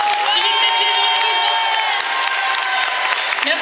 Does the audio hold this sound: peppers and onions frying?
no